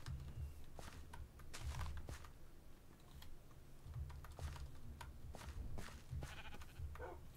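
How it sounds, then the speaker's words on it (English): Sheep bleating in Minecraft, several short cries rising at irregular moments over a quiet game background, faint and without speech. "Ooh, sheepies."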